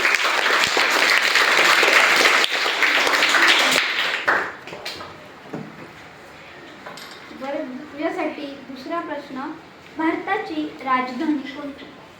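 Schoolchildren at a village primary school quiz contest break into a burst of applause for a participant. The clapping is dense and lively for about four seconds, then fades, and children's and adults' voices follow.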